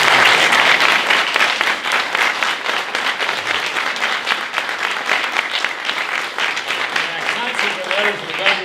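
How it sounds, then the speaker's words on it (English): Audience applause at a state park event with the governor at Leesylvania, a dense sustained clapping from a sizable crowd lasting several seconds and slowly tapering off. "If we can give them a great round of applause."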